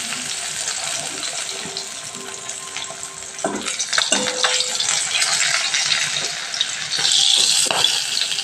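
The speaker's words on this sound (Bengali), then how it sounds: "বাকি পাবদা মাছগুলো আমি এক এক করে তেলের মধ্যে দিয়ে দিচ্ছি।" Pabda fish pieces sizzle in hot oil as more are slipped into the pan one at a time, with a steady crackling fry, occasional clinks and stirring, heard near and alone.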